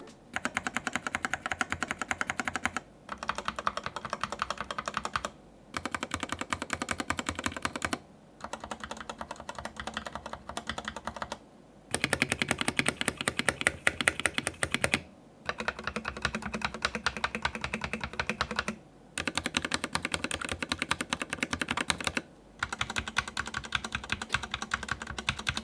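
Fast typing clatters on the Noir N1 keyboard and then the stock Fantech Maxfit61, the spacebar stabilizers tuned with extra Permatex on one board. Dense keystroke bursts come close and crisp, separated by brief pauses.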